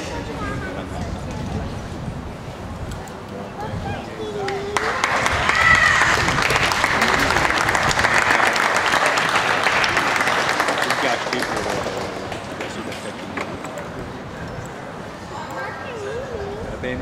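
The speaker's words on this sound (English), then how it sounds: "let's give them all a round of applause when I get done." Applause from the audience at a Jersey heifer show in Ontario, a broad wash of clapping that swells for several seconds and then fades, while an announcer talks over the ring.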